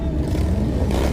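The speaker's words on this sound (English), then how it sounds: "roaring engines for Iyla" Motorcycles from a bike club roar their engines together at a memorial ride, a dense and steady rumble that stays loud and close throughout, with no voices over it.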